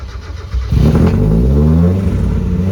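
LS V8-swapped Mazda Miata engine revving hard, a loud rising roar that kicks in after a half-second of idle burble and holds near the rev limiter.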